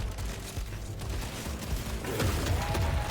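Dense, crackling bursts of gunfire from the game Deep Rock Galactic: Survivor, rapid and continuous, over a steady rumbling background with no talking.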